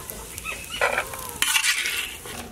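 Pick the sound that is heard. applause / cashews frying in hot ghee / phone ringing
cashews frying in hot ghee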